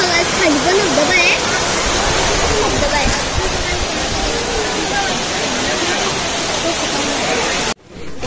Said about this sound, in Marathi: खाली पण धबधबा आहे.